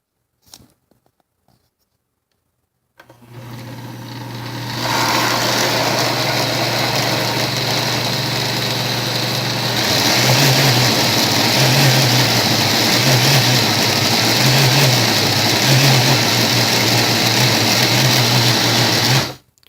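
An Oster blender runs loud and steady as it mixes SunButter. The motor whine starts after a few quiet seconds and holds, with a slight change in tone partway through and some rhythmic labouring near the end.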